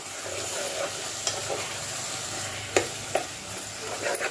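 Tomato pieces and onion frying in a pan under a steady, fairly loud sizzle, with occasional spoon scrapes and taps as they are stirred, heard close with no voices.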